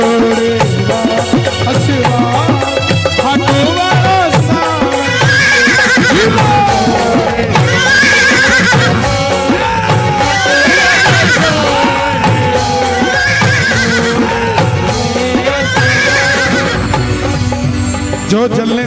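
A horse neighs repeatedly as a sound effect within a devotional Hindu story of Khatu Shyam Baba, loud whinnies recurring in a steady rhythm over dense music and clopping hooves throughout.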